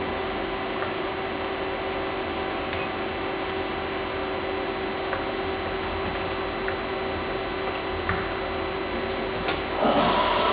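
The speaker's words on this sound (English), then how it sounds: "Now we're going to run the spindle." Star SR16 Swiss-type lathe with a synchronous rotary guide bushing, its spindle running at a steady whine with a constant high tone over a broad machine hum, continuous throughout and slightly louder at the very end.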